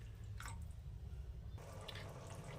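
Water splashes into a pan of spiced gravy for an egg curry in a short pour, a light liquid patter with a brief second burst, close and fairly quiet.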